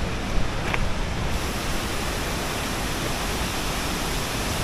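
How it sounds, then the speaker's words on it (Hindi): Steady roar of a waterfall along the Madhmaheshwar trek in the Himalayas, a constant broadband rush filling the scene from start to finish with no voices over it. "ये देखिए आप वाटरफॉल"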